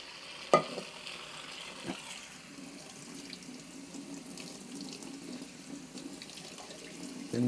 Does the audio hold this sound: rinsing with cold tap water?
yes